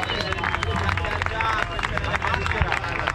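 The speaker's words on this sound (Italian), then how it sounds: "Un bel applauso agli Squallor!" An audience at a beach bike polo tournament award ceremony applauds with dense, steady clapping mixed with crowd chatter and voices. The sound is lively and moderately loud throughout.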